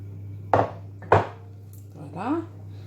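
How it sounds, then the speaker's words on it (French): A knife chops chocolate on a board for a coconut cake, giving two sharp, close cuts about half a second apart, followed by a brief vocal sound. "il me reste juste à couper le chocolat pour le mettre dans le gâteau."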